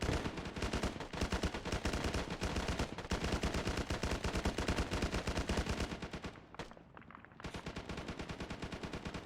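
A Huey helicopter firing in a military video game, a loud, rapid machine-gun stream of dense shots that runs almost without a break, stopping briefly once before resuming.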